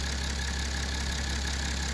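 A BMW 535d twin-turbo diesel engine runs steadily at idle, a constant low rumble with a dense mechanical clatter and a faint high whine, heard up close with no voices.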